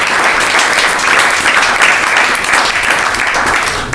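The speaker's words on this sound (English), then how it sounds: "First, do a round of applause." Loud, dense applause from a conference audience after a talk on scaling Holacracy at Bol.com, steady broadband clapping that fills the whole stretch without a break.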